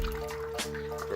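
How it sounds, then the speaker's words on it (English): Coolant draining from a budget race car's engine during engine removal, a steady liquid trickle and dribble that runs continuously at close range, with a steady hum underneath. "Draining the coolant, it looks like piss, and it smells a lot like it too."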